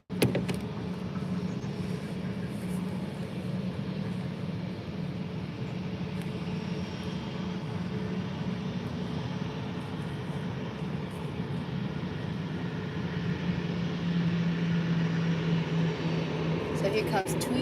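A TUI airliner arriving from Dusseldorf at Faro airport makes a steady, broad engine roar that swells slightly toward the end, heard from a distance with a continuous rumble and no talk.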